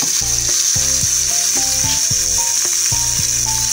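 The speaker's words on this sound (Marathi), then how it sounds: "हा तडका आपण आपल्या पुदिन्याच्या चटणीवरती टाकून घेऊया।" Hot tempering with turmeric and curry leaves sizzling as it meets mint chutney, a loud close frying hiss with rapid crackling pops throughout.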